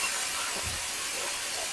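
Bitter gourd pieces fry in hot oil seasoned with turmeric, giving a soft, even hiss and sizzle that holds steady throughout, with a faint low thump near the middle and no one talking.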